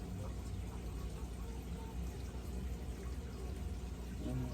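Water gurgling and rushing steadily through a cheap Temu gravel vacuum siphoning a cichlid aquarium, a continuous faint washy flow with no clear breaks.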